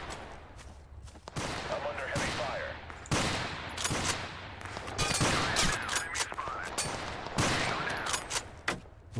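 Gunfire in the video game Total Conflict: Resistance, dense sustained bursts of automatic fire and sharp shots, loud and continuous, with a voice speaking over the battle.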